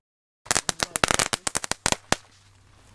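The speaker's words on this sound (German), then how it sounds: "Und jetzt wird geballert. Natürlich auch ein bisschen im Regen und im Wind" A string of firecrackers is set off outdoors in rain and wind, with about fifteen loud, close bangs crackling rapidly after a short silence, then a fading hiss.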